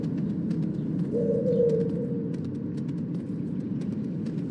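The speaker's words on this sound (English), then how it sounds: "This pigeon's strong." A pigeon in a Spider-Man video game gives a short, low cooing call in the middle, over a steady city-like background hum with faint ticking clicks.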